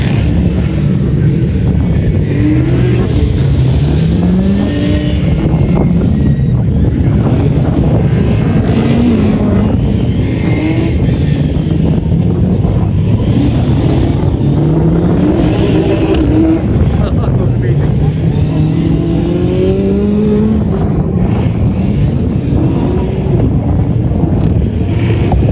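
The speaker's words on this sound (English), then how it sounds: "गाड़ियाँ की बहुत loudness है." Group B rally cars at the Race Retro event: loud, continuous engine roar with rising and falling revs as cars pass, and someone talking over the din.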